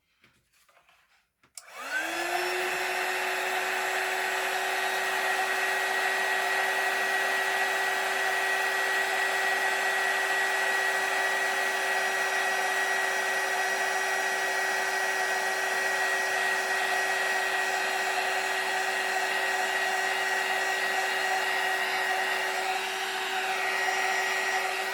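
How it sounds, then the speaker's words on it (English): A heat gun melts embossing powder on a handmade card, switching on after a short quiet start and then blowing in a steady, even whirring hiss to the end. "when you sort of do a little bit of the heat gun, It does sort of make your card warp just a little bit."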